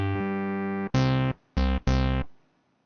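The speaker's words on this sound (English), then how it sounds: "And we've got a sub-oscillator as well." Synthesizer oscillator tone with sub-oscillator, sounding as a loud sustained buzzy note followed by three shorter bursts, the last fading out, with no talk.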